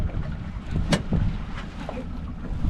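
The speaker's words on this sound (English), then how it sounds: "The breeze is picking up a little bit, blowing us around more." A breeze blows steadily over a small boat fishing for Pacific cod at sea off Alaska, a continuous broadband rush of wind on the microphone with water movement and a few brief knocks from the boat.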